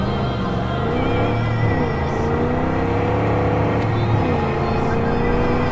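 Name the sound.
car engine driving in video game Far Cry 5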